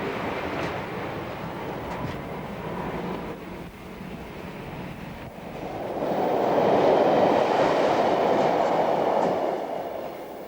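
A Great Western train rumbles into a station with steady rolling noise that swells louder midway as it draws close, then holds a heavy drone.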